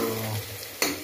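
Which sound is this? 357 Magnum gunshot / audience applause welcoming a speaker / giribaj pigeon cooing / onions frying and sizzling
onions frying and sizzling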